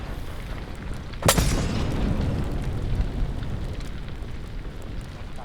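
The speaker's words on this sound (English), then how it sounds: "Throwing frag." A frag grenade detonates in a military video game, a single loud boom near the start followed by a long rumbling tail that fades slowly under continuing battlefield ambience.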